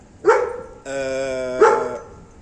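A strong young dog of a tough working breed gives two sharp, close barks with a sustained whining, vocal tone between them, loud and clear with no talk over it.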